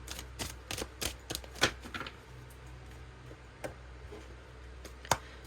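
Tarot cards being shuffled by hand, a series of crisp, close ticking snaps and riffles, clustered early and then sparser with a couple of sharp clicks, over a faint steady room hum.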